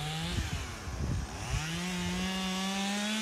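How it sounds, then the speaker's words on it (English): A chainsaw engine runs close by and loud near a horse, revving up and down in the first second and a half, then holding a steady, high-pitched whine with no voices over it. "Right up to the crazy guy with the chainsaw."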